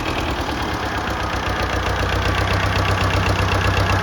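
A restored 1954 Fordson Major tractor, made in England and fitted with a whistle silencer, runs close by with a loud, steady low throb and a rapid regular pulsing beat that continues unbroken throughout, with no talk.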